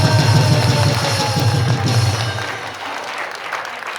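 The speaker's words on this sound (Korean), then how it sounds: "감옥에서 석방되기를 원하시는 분들은 박수 크게 한번 보내주세요." A rally crowd breaks into loud, sustained applause that gradually thins and fades over a few seconds, with no voices standing out.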